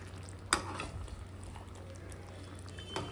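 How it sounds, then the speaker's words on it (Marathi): Salt and cream being stirred into chicken biryani in a pot, with a utensil scraping and a clatter near the start and another near the end over a low steady hum. "तर बघा मीठ आणि क्रीम घेतली टाकून थोडंसं मिक्स करते हलकंसं"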